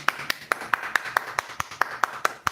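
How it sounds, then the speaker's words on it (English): A single person claps hands in a steady rhythm, about a dozen sharp, evenly spaced claps, fairly close and moderately quiet with little else around. "hand clap for the scammers"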